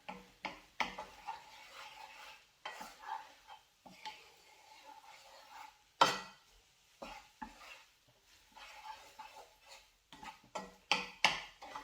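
A utensil stirs and scrapes tofu scramble around a hot pan in irregular bursts, with soft sizzling and occasional sharper knocks against the pan between quieter pauses.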